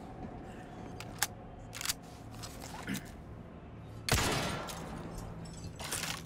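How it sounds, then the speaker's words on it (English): Resident Evil 4 Remake weapon reloading for several guns and an automatic rifle: a few sharp mechanical clicks and clacks spaced apart, then a louder metallic rattle, over a steady low game ambience. "Let's reload these other guns here. And this automatic rifle."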